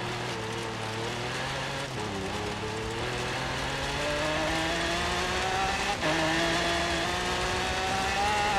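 Sports cars drive in the video game Forza Horizon 3, with a steady, loud engine drone whose pitch climbs and drops with gear shifts and stays constant throughout.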